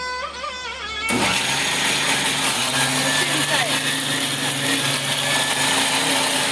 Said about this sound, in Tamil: மிக்ஸி போடு